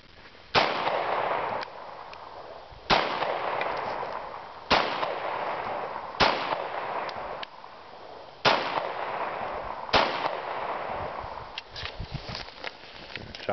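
A Kahr CW45 pistol fired at a shooting range: about seven sharp, loud gunshots spaced a second or two apart, each followed by a short ringing decay, heard up close with no talking.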